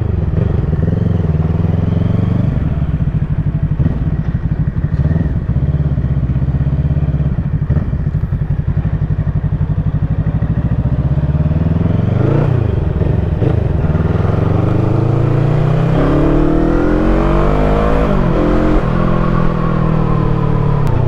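Fekon Falcon X 400 motorcycle on a quick test ride, its engine droning steadily and loud throughout, with rising and falling revs and gear changes in the second half, plus some wind and road rumble and no talk.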